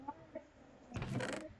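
A chicken in the video game Minecraft gives a short, quiet cluck or two, then a brief burst of louder, rougher noise near the end.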